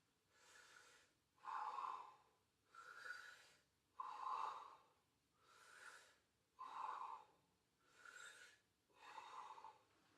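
Slow, deep breaths during a chest-to-feet stretching and mobility routine, eight or so close, evenly spaced airy inhales and exhales alternating with brief pauses, no talking.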